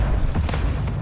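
A grenade explosion in Call of Duty: Modern Warfare II (Warzone 2.0), a loud, heavy, low boom that rumbles through a short burst.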